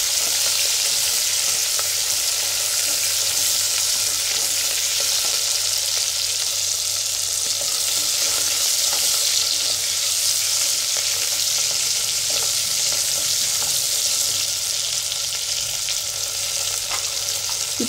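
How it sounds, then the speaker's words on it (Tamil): Garlic cloves sautéing in a hot pan, a loud, steady, close sizzle and hiss lasting throughout, with occasional scraping stirs beneath the frying noise. "இந்த பூண்டையும் போட்டு நல்லா வதக்கிக்குவோம்."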